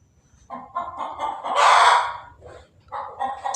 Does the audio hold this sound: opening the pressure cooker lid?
no